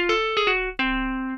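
A few sustained, ringing guitar notes from the Apollo Cinematic Guitars Kontakt sample library, plucked in sequence, clean and close, each one decaying slowly; a single spoken word at the end.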